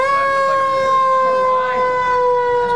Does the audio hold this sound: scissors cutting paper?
no